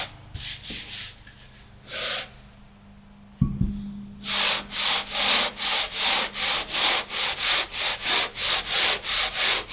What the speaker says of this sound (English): You just keep sanding and that seam will disappear.